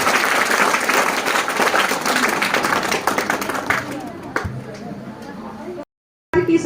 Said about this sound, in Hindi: तालियों की गिड़गिड़ाहट के साथ हमारी इस बहन का आप स्वागत करें